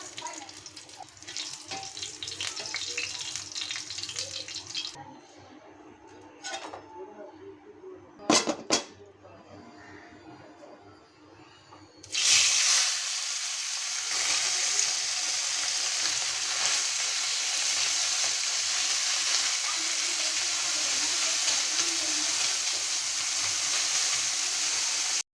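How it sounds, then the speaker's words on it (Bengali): Green chillies hit hot oil in a pan before fish frying, first some faint kitchen clatter and a couple of sharp knocks, then a loud, steady hissing sizzle that continues close up for over ten seconds. "মাছগুলো ভাজার আগে আমি কয়েকটা মরিচ ভেজে নেব।"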